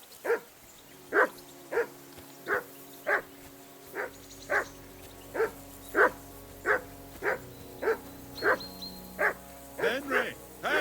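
A dog in Kingdom Come: Deliverance II barks steadily and loudly, about fifteen evenly spaced woofs at a brisk pace, with a low background hum.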